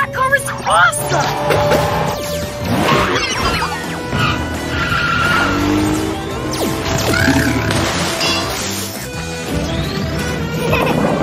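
An animated cartoon cat-themed car speeds off with tire skids and revving engine whooshes, loud and busy, mixed with music and excited character voices.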